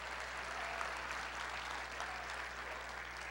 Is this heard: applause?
yes